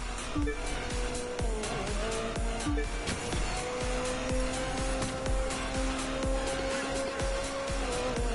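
A Mazda MX-5 ND touring car races in The Crew 2 video game, its engine droning steadily at close range while tires squeal and skid repeatedly throughout, with no one speaking.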